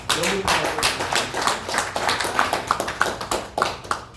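Church congregation clapping together during a Sunday worship service, a loose, moderately loud patter of hands rising and thinning in waves over a few seconds, with a voice briefly audible beneath it.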